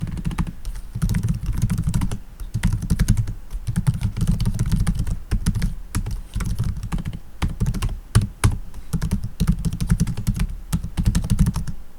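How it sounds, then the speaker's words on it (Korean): Typing on the keyboard of an ASUS Vivobook S 16 laptop, a steady run of soft, close key clicks in quick bursts with brief pauses, heard alone without talk. "키감은 적당한 반발압과 특유의 부드러움이 느껴지는 타건감이고 화이트 백라이트 역시 갖추고 있어"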